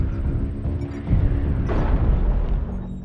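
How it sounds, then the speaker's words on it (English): An artillery strike in a video game, heard as deep, rumbling booms that roll together into a sustained low roar, with a few heavier blasts swelling partway through. "Artillery strike online."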